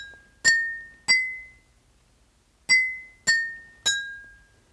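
The tune Hot Cross Buns picked out as five bright, ringing glassy strikes on vibrating objects, each clink decaying quickly, spaced unevenly with a pause in the middle, in a quiet setting.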